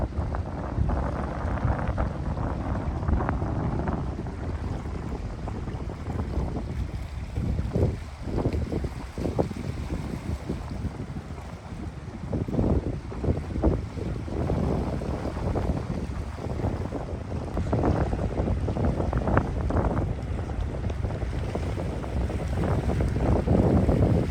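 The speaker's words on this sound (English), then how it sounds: "There's another fishing boat going out." A fishing boat engine rumbles steadily over heavy wind buffeting and splashing water, a continuous low drone with gusty noise throughout, at The Spit on the Gold Coast, Australia.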